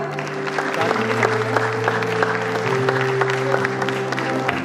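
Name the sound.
audience clapping at a prize ceremony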